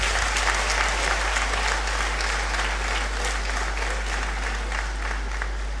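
A large audience at a university congregation ceremony gives a sustained round of applause, loud, dense clapping that holds steady for several seconds over a low constant hum.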